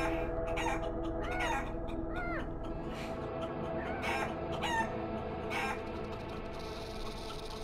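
Repeated clucks from a chicken in the video game Guacamelee! Super Turbo Championship Edition, bursts scattered over a steady game music and hum background.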